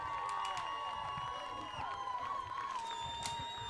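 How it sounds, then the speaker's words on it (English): A stadium crowd cheers and roars at a women's American football game, sustained loud noise with whistles and shouts, under a commentator's voice. "Crowd getting super loud."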